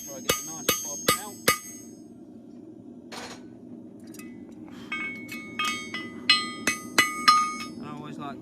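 A farrier's hammer strikes a horseshoe in sharp, ringing metallic blows: four quick hits open, then after a pause a longer run of irregular clanging strikes, each with a bright decaying ring.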